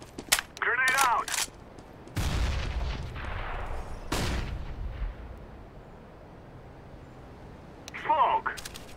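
In the video game CS:GO, a thrown grenade goes off as a heavy boom followed by a second blast a couple of seconds later, each trailing away. Amid gameplay noise, short bursts of voices are heard near the start and end.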